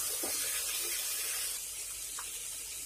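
Tomatoes dropped into mixed vegetables frying over a high flame give off a steady, dense hiss and sizzle, fairly quiet and continuous, with no voices.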